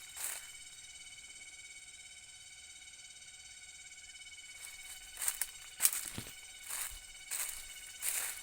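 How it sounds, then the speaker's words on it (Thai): Cicadas in a coffee plantation in southern Laos give a steady high-pitched drone, with outdoor shuffling and movement sounds later on. "พอช่วงนี้เป็นช่วงแมงจักจั่นพี่น้อง แมงจักจั่นหลายอยู่"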